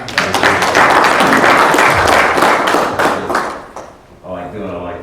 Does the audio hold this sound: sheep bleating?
no